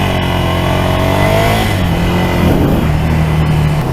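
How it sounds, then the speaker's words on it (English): Ducati Scrambler motorcycle engine revving hard with a steady, loud mid-pitched roar whose tone rises and then drops as the throttle changes, close by and with no talk. "I got to really rev this thing."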